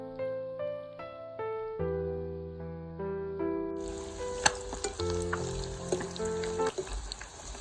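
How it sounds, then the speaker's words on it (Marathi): Bhaji fritters fry in oil on a wood-fired stove, a bright crackling sizzle that starts partway through and carries on under loud background music. "सगळ्या भज्या सोडायच्या आणि मग त्याला चांगलं असं व्यवस्थित परतून घ्यायचं आहे गोल्डन रंग येईपर्यंत"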